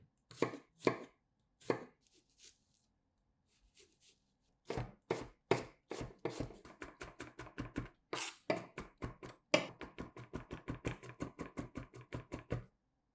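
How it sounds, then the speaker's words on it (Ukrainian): Garlic being finely chopped with a knife on a board, starting with scattered single strikes and building into a fast, steady run of crisp taps, close and clear. "Чесник очистіть і дрібно порубайте"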